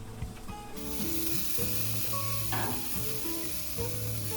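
Bratwurst laid on a grill over medium heat sizzles in a close, continuous crackling hiss, with faint music playing underneath.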